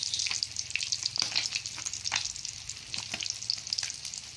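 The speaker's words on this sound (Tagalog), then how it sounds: "Ayan, fried fish, alumahan, saka dalagang bukid, saka bangus." Alumahan, dalagang bukid and boneless bangus fish sizzle steadily in hot oil, a continuous dense crackle with sharp spitting pops scattered throughout, close and loud, with no talking.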